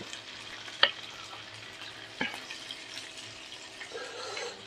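Bacon hits a hot pan that already holds squid and no added butter, giving a steady close sizzle and crackle. A couple of sharp utensil clacks punctuate the frying, and no one talks.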